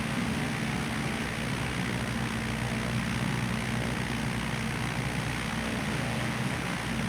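Steady, loud aircraft engine roar during takeoff in Microsoft Flight Simulator, a continuous dense drone with no pauses and no talk.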